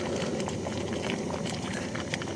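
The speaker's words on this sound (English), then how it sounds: "The dinner's bubbling away there" Dinner bubbling away in a pot on a camp stove at a wild camp, a steady soft hiss and burble close by, with no one speaking.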